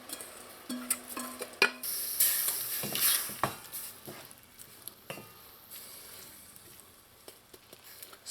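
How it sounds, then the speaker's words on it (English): Tomatoes, onion and green seasoning sizzle in a pot for Trinidad stewed fish, with a soft frying hiss broken by scattered clinks and scrapes of a utensil against the pot. "now you're going to add your leftover tomatoes and onion with your green seasoning."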